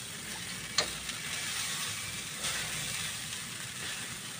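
Garlic rice fries in a pan, a steady close sizzle with occasional light clicks of a utensil stirring, no voices over it.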